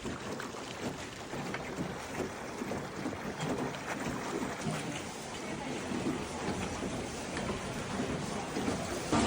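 Small rowing boat in Vietnam moved by a woman pushing the oars with her feet, steady water splashing and lapping with a soft hiss throughout, close by, faint voices in the background.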